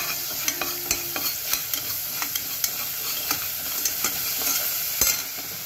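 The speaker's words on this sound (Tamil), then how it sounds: "இஞ்சி பூண்டு பேஸ்ட் போட்டு நல்லா போட்டு வதக்கணும்." Ginger garlic paste sautéing in a pan for mutton curry, a steady sizzle punctuated by regular sharp taps and scrapes of a spoon stirring against the pan, no one talking.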